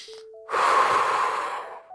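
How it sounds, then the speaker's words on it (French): A single long, deep breath is drawn in during a relaxation exercise. It is a steady, close, breathy rush lasting over a second, with faint tones just before it and no talking. "je peux prendre une bonne grande respiration"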